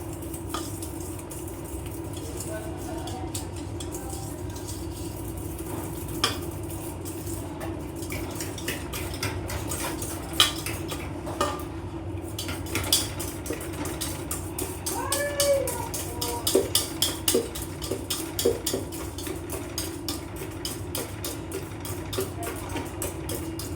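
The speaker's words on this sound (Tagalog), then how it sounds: "So, i-mix natin siya. Make sure lang na mix talaga siya." Lava cake batter mixed with a utensil in a bowl, giving soft, irregular scrapes and clinks over a steady background hum; the scraping quickens toward the end.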